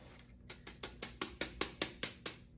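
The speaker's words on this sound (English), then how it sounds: "All right, so we're just gonna crank this one and sift our flour." A hand-crank metal flour sifter is turned steadily, giving a quiet, regular series of ratcheting clicks as the blade sweeps across the mesh, close by with no voices.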